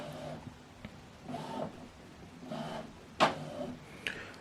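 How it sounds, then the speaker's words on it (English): An Epson WorkForce printer is printing. Its soft mechanical whirring comes in repeated passes, with a few faint clicks and one sharper clack, all quiet and close by. "So now it's printing."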